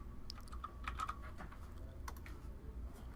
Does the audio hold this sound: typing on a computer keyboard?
yes